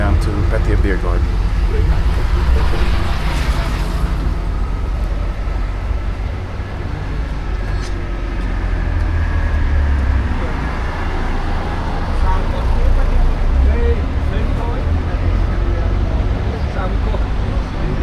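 Riding a bus through traffic in Pattaya, Thailand: a continuous low engine drone and road rumble fill the cabin, with faint higher road hiss drifting in and out over the ride.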